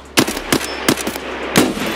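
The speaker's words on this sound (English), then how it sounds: "I shot him through the glass" Rifle gunfire in Escape from Tarkov, a Mosin rifle with a muzzle brake in play: four sharp, loud shots spaced irregularly over two seconds, each cracking out against a low steady background hum.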